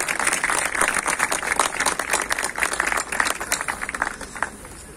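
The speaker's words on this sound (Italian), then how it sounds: "I think that deserves a round of applause" A crowd gives a sustained round of applause at an outdoor ceremony unveiling a roundabout's naming. The clapping is dense and steady, fairly close, and continues for the whole five seconds before beginning to thin slightly.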